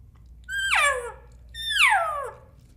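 A human voice imitates an elk call with the lips rounded into an O shape. Two whistly, descending calls, each about half a second long, come close and fairly loud and are separated by a short pause.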